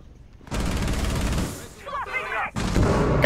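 Shotgun blasts in Rainbow Six Siege, a skyscraper hostage match, with loud booming reports at the start and again near the end, separated by a brief lull holding a short sharper clatter, while a voice talks through the action.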